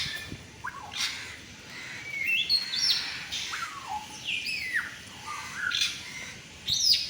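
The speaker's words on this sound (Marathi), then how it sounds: "वा खूप सुंदर गाणं गायलं या काळ्या पोपटांनी" Parrots call back and forth with rising chirps, whistles and harsh squawks, loud and close, in irregular bursts over several seconds.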